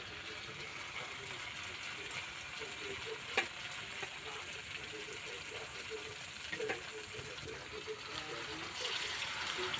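Flour and raw potato snack pieces frying in a shallow layer of hot oil in a pan, a faint, even sizzle with occasional small clicks and scrapes.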